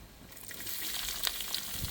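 Soft, steady sizzling of onions frying in a pan for egg tikka masala curry, with faint crackles and pops scattered through, no voices.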